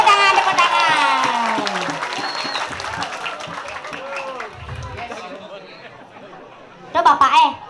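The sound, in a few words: audience applause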